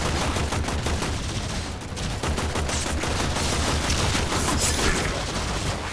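Rapid automatic gunfire rattles almost without pause in the Warframe video game, dense bursts of shots layered over explosive impacts and mechanical clatter, loud and close throughout with no voices.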